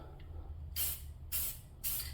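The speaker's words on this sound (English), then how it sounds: "Got the Krylon flat black going on here, so let's see how it sprays." Krylon flat black spray paint hisses from an aerosol can in three short bursts, each under half a second with brief gaps, close and loud over a low background hum.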